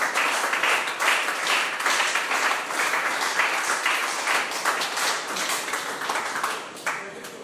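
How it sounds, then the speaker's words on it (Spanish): A church congregation applauds in sustained, dense clapping that holds steady for several seconds before easing off slightly at the end. "Denle un aplauso a Cristo por eso"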